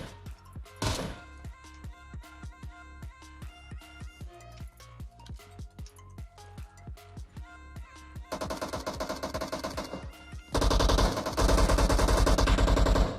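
Gunfire in the mobile battle-royale game PUBG Mobile: dense rapid bursts of automatic shots, loud and close, building into heavier sustained firing toward the end, with no talk over it.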